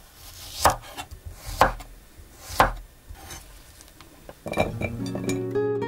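A knife slicing garlic cloves thinly on a board, three distinct crisp cuts at roughly one-second intervals, close and clear, followed by softer scraping and clinking sounds.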